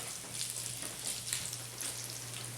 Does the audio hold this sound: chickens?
no